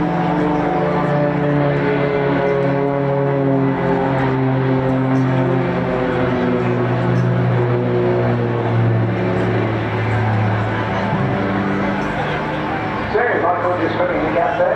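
Firefly aerobatic propeller plane flying at the Bournemouth Air Festival, its engine droning and shifting pitch as it manoeuvres at a distance, under continuous commentary from an announcer.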